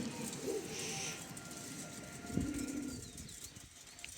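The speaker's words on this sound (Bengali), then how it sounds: "কবুতর একটু উত্তেজিত কারণ আমি সচরাচর হাতে কবুতর ধরি না" A restless racing pigeon held in the hand beats its wings in a brief flurry and gives a low coo, close and fairly quiet against a steady background hiss.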